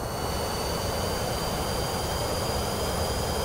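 Airplane engine noise in Microsoft Flight Simulator 2024, a constant loud roaring drone with steady high whining tones, close and unchanging for the whole stretch.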